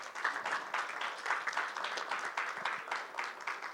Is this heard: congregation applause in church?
yes